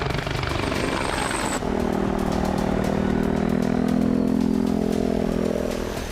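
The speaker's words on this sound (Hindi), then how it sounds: "टैंक रोधी मिसाइलों से लैस इस हेलीकॉप्टर को स्पीड के लिए जाना जाता है।" A Mi-28 attack helicopter armed with anti-tank missiles flies past, its loud, steady rotor and turbine drone filling the scene, with a sharp high whine early on and a rhythmic blade chop throughout.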